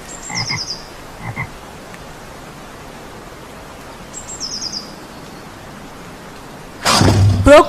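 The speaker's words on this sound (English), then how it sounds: "frog." A frog croaks in two short rhythmic bursts, a pause, then the same pattern again, close and clear, followed by a loud noisy burst near the end.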